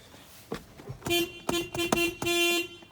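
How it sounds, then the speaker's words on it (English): The horn of a 2000 Toyota Tacoma honks several times in short and longer blasts, loud and close, with no talking. "honk our horn"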